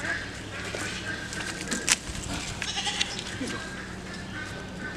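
A goat bleats in a farm pen, with one sharp, loud call near the middle over a constant outdoor background and faint voices.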